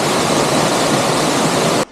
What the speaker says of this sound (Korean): 아미기폭포 위에 이거는 무명폭포라고 합니다.